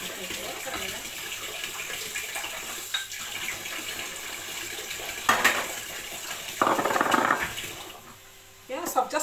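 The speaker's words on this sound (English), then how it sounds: "Let me just put a bit of water in it." Water pours from a tap into a bowl of chikanda, a Zambian dish, in a home kitchen, with a gushing burst of running water among handling noises and brief pauses.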